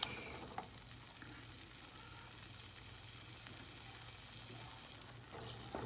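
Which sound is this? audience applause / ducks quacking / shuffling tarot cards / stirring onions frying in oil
stirring onions frying in oil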